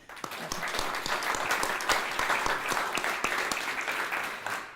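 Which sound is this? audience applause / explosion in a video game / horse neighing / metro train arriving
audience applause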